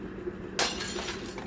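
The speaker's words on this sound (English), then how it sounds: "I really wish it'd shatter." Glass suddenly shatters in the video game Little Nightmares II, one sharp loud crash breaking a quiet hum, followed by a short tinkling decay.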